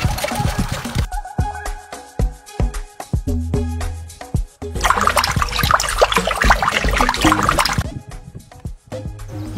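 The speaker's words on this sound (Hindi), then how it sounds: "ये इस पेड़ को पानी क्यों दे रहा है?" Water poured onto a tree splashes and trickles loudly at close range in two long surges, with drips and a gurgling flow between them.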